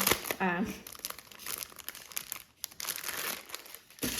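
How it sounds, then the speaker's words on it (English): Paper cash envelopes rustle and crinkle on and off at close range, with brief crackling bursts and faint handling noises throughout. "sorry, the rustling again."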